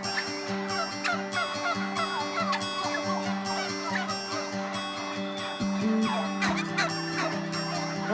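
A flock of turkeys being raised for a Christmas turkey festival parade gobble and cluck repeatedly, a busy chorus of calls close by with no talk.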